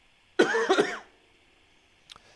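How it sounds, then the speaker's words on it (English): A single harsh cough bursts out close by, followed by a quieter small throat sound after a pause. "Excuse me, I have to cough."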